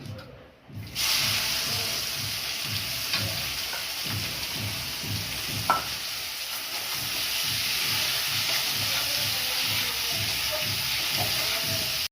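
Onions frying in hot oil in a wok give a steady, dense sizzle that runs loud and unbroken throughout, with a faint low rhythmic pulsing beneath it.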